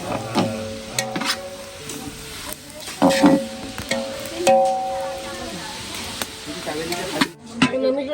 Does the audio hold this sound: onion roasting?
yes